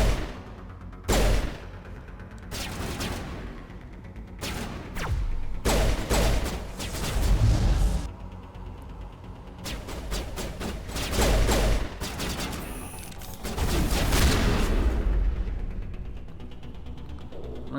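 Pistol fire in the Mass Effect Legendary Edition game, a series of sharp shots and short volleys spread over several seconds, with thuds and a low mechanical hum between them and no talking.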